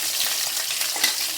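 Chopped carrots and cucumber frying in hot oil in a home kitchen pan, a steady close, dense sizzle with faint stirring, no voices.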